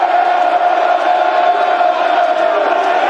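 A football crowd at Millwall's stadium, the Den, roars in a dense continuous wall of sound during a Millwall versus Stoke City match, loud and sustained throughout.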